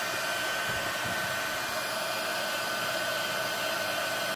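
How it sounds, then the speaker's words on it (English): An embossing heat tool blows hot air over powder on a card, a loud, constant whooshing fan drone held steadily close by before cutting off abruptly at the very end. "Then you're going to heat up your heat tool."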